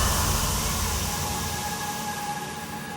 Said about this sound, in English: White noise coming up, and an impact.